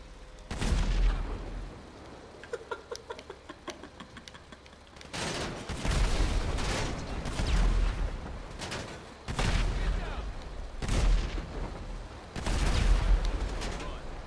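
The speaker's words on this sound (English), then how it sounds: "Who else is shooting at me?" Repeated bursts of gunfire from a GTA 5 match, with several loud volleys of shots and booms separated by brief lulls and a quieter stretch early on.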